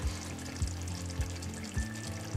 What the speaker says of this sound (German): Deswegen gebe ich einfach noch mal ein bisschen mehr Wasser dazu.